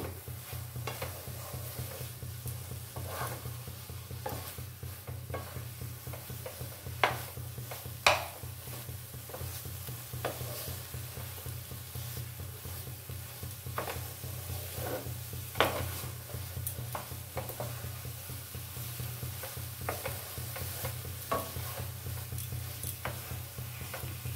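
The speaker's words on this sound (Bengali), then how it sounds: "এইভাবে সমানে নাড়িয়ে যেতে হবে।" Chickpea dal laddu mixture is stirred steadily in a pan, giving a continuous low scraping rustle with scattered spoon clicks against the metal, a faint sizzle running underneath, moderately close and steady for the whole stretch.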